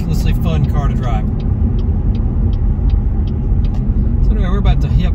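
A Cadillac ATS-V rumbles steadily from inside the cabin while driving through Marietta toward Atlanta, a low continuous road and engine drone with someone talking over it at the start and end.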